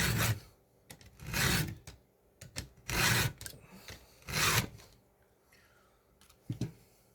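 A new chainsaw sharpening tool grinds the teeth and rakers of a chainsaw chain, with bursts of harsh rasping strokes, about four long passes separated by short clicks and pauses, close up with no talk.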